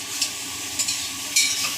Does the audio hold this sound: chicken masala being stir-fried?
yes